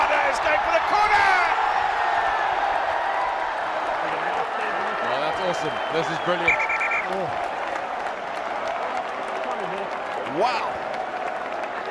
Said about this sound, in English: Crowd love it, we loving it as well.